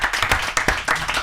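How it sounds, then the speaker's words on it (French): A studio audience claps for a guest's father on a French talk show, a short burst of brisk, uneven hand claps with a few louder strikes standing out over about a second. "On peut l'applaudir."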